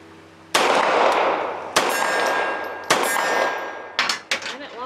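Several sharp gunshots from a CSA Vz Skorpion pistol firing .380 ammunition, four loud cracks spaced about a second apart, each ringing out with a metallic clang and echo, with no talking.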